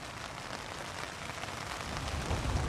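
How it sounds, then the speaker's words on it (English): Steady rain falling in the Sierra Nevada mountains, a dense, even hiss of drops on surfaces with no voices. "And it's starting to rain."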